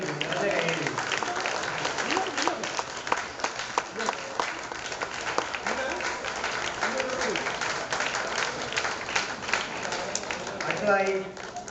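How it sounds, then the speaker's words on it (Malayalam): Audience applause after a chenda thayambaka debut performance, sustained dense clapping from a crowd in a hall, with a voice talking over it for much of the time. "നിറഞ്ഞ കയ്യടികളുടെ നിറഞ്ഞ കയ്യടി."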